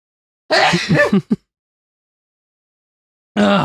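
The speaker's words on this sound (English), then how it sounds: "She decides to sneeze." A single sneeze, a short sharp burst with a quick catch of breath, then silence and a brief bit of voice at the end.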